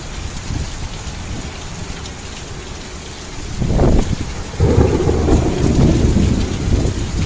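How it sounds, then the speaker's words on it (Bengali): Heavy rain and gusting wind lash the ferry M.V. Dhaka-4 during a storm, a loud steady downpour broken by booming rumbles of thunder that swell midway and keep rolling. "প্রচুর বাতাস আর বৃষ্টি।"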